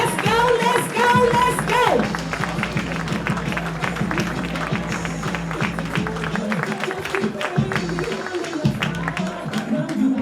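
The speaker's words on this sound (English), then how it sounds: "Keep clapping." Audience applause and clapping at a new teacher orientation, a sustained, fairly loud wash of hands clapping throughout, with a voice speaking over it at the start.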